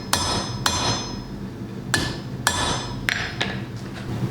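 Hammer blows forging metal for a Thor's hammer necklace: six sharp, ringing strikes spaced about half a second to a second apart, close and loud over a quiet workshop background.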